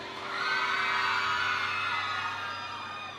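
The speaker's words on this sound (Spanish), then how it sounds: "y el grito de las chicas." Girls scream at a live concert at La Jungla in 2009, a loud, sustained high-pitched crowd shriek that swells and holds steadily throughout.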